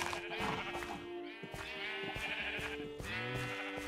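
Sheep bleating in the video game Minecraft: several wavering, nasal bleats follow each other closely and clearly in the foreground over a steady game background.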